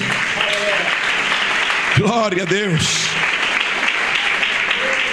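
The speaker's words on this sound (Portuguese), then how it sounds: "Aplausos para Jesus." A church congregation keeps up continuous applause at a worship service while a man briefly calls out over it.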